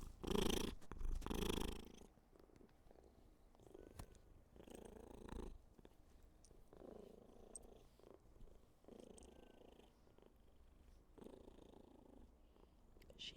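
A cat purrs loudly and close by, a steady rumbling purr that runs through the whole stretch after a louder burst of handling noise at the start.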